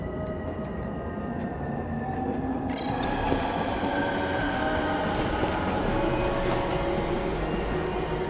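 Game train pulling in at a station platform in 13 Sentinels: Aegis Rim, a steady loud rumble of wheels and carriage noise with a faint squeal, growing denser and brighter partway through, no talk.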